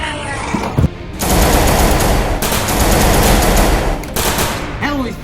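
Loud bursts of automatic gunfire from a video game fight, long sustained fusillades with a brief pause between them, preceded and followed by faint voices.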